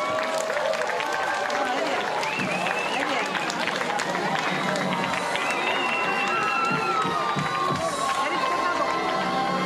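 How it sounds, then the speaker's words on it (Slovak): Crowd at an outdoor May pole raising festival applauding and cheering as firefighters raise the pole, a dense, steady roar of clapping and shouts with voices mixed in throughout. "Povzbuďte ich prosím potleskom."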